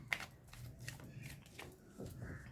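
A traditional tarot deck being shuffled by hand, with soft riffling card flutters and light taps up close at low volume, alone without talk.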